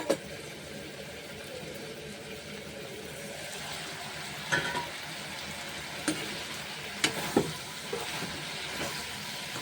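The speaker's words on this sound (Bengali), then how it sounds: "দেখতে পাচ্ছ সিম প্রায় ফ্রাই হয়ে গেছে" Flat beans fry in a pan for a fish and potato dish, giving a steady low sizzle with a few sharp crackles and clinks near the middle and toward the end. No voices are heard.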